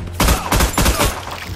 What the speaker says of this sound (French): Le Laredo tire à pleine puissance